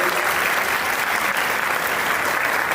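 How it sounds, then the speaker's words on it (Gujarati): An audience at a Gujarati speaking event breaks into strong applause for a woman guest, a dense, even roar of clapping filling the whole moment without pause. "મેડમ માટે જોરદાર તાળીઓ થઈ જાય"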